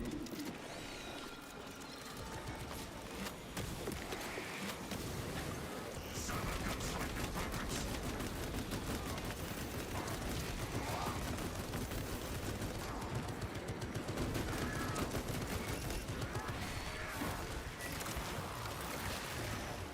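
An automated turret in a video game fires steady rapid bursts, a dense rattling barrage that keeps going through the whole stretch amid busy combat noise.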